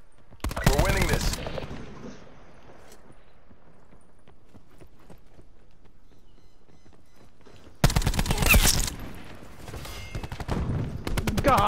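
Bursts of rapid automatic gunfire from a weapon in Call of Duty: Black Ops 4, a loud volley at the start, a quieter stretch, then another sustained loud burst near the end.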